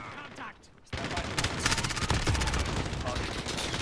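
Submachine gun fire in Call of Duty Modern Warfare, rapid bursts of close automatic shots crackling over busy game noise after a brief quieter moment, with no talking.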